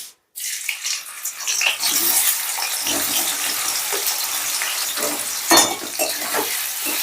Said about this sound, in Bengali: এবারে এই তেলেই আমি পনিরগুলো ভেজে নেব